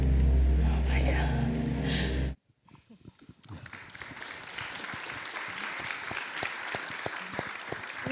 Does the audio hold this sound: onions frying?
no